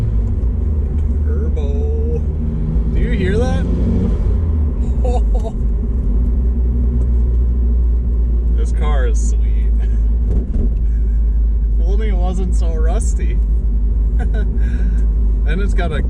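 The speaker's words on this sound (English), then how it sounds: "Turbo. Do you hear that?" A Mazdaspeed 6 turbo running a Cobb tuner drives steadily with a constant loud low engine rumble, with voices talking over it throughout.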